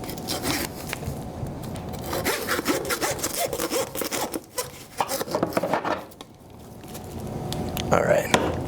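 A deer backbone being sawed through while venison is butchered, with continuous rough rasping strokes that rise and fall, close and fairly loud, briefly easing in the middle before resuming.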